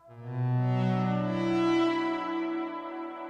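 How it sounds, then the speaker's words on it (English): A sustained synthesizer chord swells and glides slowly through an Erica Synths Nightverb, washed in lush, shimmering, modulated diffused reverb that keeps ringing as it gently fades. "it's modulating all the little individual delays that make up this beautiful diffused reverb"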